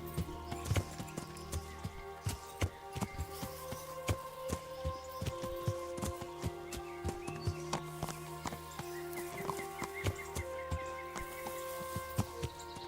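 A horse's hooves clip-clop in a steady rhythmic gait across rough ground in the medieval game Kingdom Come: Deliverance, crisp and fairly close, with no speech over them.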